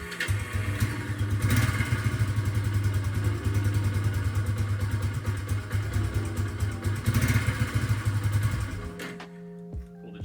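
A Yamaha SR250 motorcycle engine just after an oil change, running loud and close with a rough, steady mechanical clatter and idle, then cutting out abruptly near the end.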